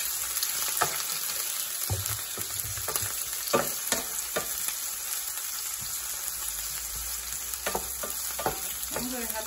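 Chopped jalapeño and a quarter onion hit hot oil in a pan, sizzling and frying steadily up close, with occasional stirring clacks and no talk.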